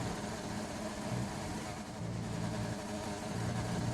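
An F1 car engine in an F1 video game, racing in Hungary, drones with a buzzy, harsh tone, rising and falling slightly in pitch over a steady rumble; no voices.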